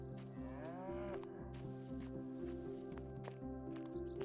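Cattle mooing in the game Rising World, a close low moo over a sustained ambient music bed with soft footstep-like taps throughout.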